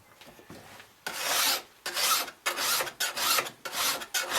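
Close, gritty rasping of a file sharpening a machete blade, a quiet start then a run of steady back-and-forth strokes, harsh and continuous with no talk.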